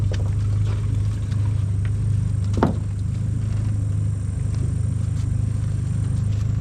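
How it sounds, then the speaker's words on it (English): A quiet boat motor runs with a steady low hum, constant and close throughout, with one brief sharp knock partway through. "That motor's so quiet you guys can hear me when I'm doing all this."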